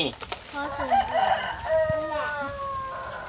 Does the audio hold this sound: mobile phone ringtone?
no